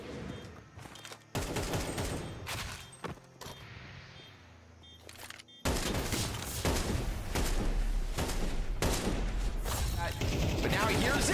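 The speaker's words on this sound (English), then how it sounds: "Dual Berettas fire off, and it's all Rob's all day." Rapid gunfire from Counter-Strike 2, including Dual Berettas pistols, during a BLAST.tv Austin CS2 Major match: dense, loud bursts and volleys of shots with game effects, continuous and intensifying in the second half.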